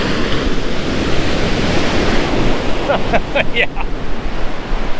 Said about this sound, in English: Hopefully you can see behind me this wave coming.